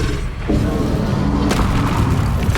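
The Expelliarmus disarming spell is cast in Hogwarts Legacy, a thudding magical boom with a rumbling mechanical swell, followed by a second bright burst about a second later.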